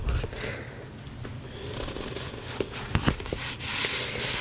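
Dry scratchy rubbing and scuffing on a textured book cover, a steady textured friction sound with a few sharper scrapes near the end, close and moderately loud.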